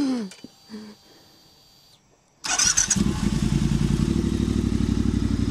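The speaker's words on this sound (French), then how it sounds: "elle démarre au 2e coup de kick." After a brief voice and a quiet pause, a vintage Norton 850 Commando MK II motorcycle engine is kicked into life on the second kick and settles into a loud, steady, thumping idle close by.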